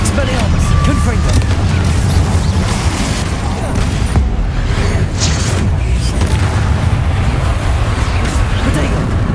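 Confringo spell blasts and explosions in the Hogwarts Legacy video game, a dense, loud, continuous barrage of booming impacts and rumbling, with a voice briefly present.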